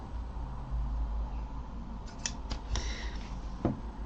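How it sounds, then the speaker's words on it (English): New scissors snip close by in a quiet room, several crisp clicks and cuts in an uneven rhythm over a low hum, with no voices. "Using my nice new scissors."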